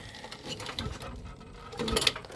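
The recoil starter rope on a Tecumseh small engine is pulled, giving a quick ratcheting whir and mechanical clatter close by, with a sharper snap near the end of the pull.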